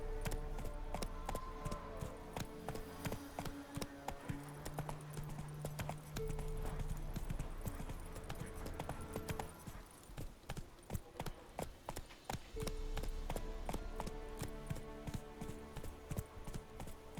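Horse galloping in the video game Witcher 3: steady rhythmic clip-clop hoofbeats run throughout over layered game music, with no talking.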